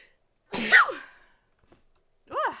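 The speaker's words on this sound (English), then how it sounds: "Oh, I'm about to sneeze." A single close, sharp sneeze bursts out and tails off; after a pause, a short voiced exclamation follows.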